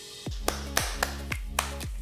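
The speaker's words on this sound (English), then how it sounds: "I don't know why the clapping helps" Hands clap sharply about five times at a steady, unhurried pace, each clap crisp and close with a short ringing tail over a faint low hum; no one speaks.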